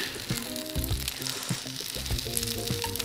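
Bibigo mini wontons sizzle and crackle in a frying pan, a steady close hiss with scattered pops and faint background tones, with no voices over it.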